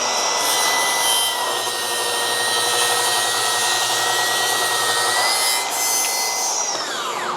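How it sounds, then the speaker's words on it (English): A track saw rips through thick rough 8/4 lumber at full depth, producing a loud, continuous rasping cut over a steady motor whine, with the pitch sliding downward as the blade spins down near the end. "And I will tell you, that is a wicked, wicked smooth cut."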